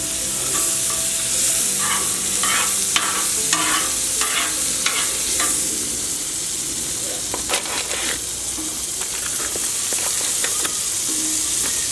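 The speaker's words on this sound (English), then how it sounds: "Let's throw some butter on here." Butter sizzles loudly and steadily on a hot Blackstone flat-top griddle, a dense crackling hiss that runs throughout, with occasional clicks of a spatula scraping the steel surface.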